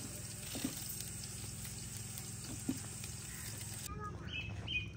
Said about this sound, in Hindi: प्याज को नरम होने तक फ्राई करेंगे।